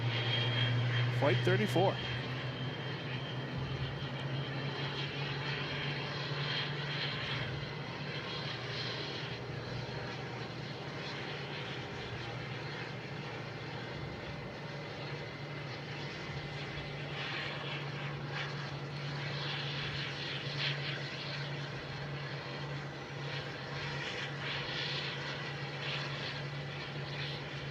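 An Airbus A320neo arriving from Paris at Boston Logan International Airport gives a steady, moderately loud jet roar with a low engine hum running throughout, while a voice speaks briefly near the start.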